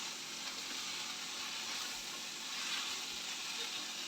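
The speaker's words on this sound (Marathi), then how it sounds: "आता हे चांगलं 5 ते 6 मिनिटं आपल्याला परतवून घ्यायचं" Spiced masala for dum aloo gravy sautéing in a pan, a soft steady sizzle and hiss throughout with faint stirring, no voices.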